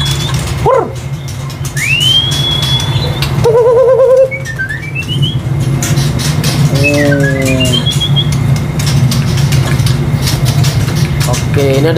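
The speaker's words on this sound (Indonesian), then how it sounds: "Ini ada burung murai Medan Trotol Jantan berikutnya ya." A male spotted Medan magpie-robin (murai trotol) sings loud rising whistles and chirping phrases close by, over a steady low engine-like hum and background noise.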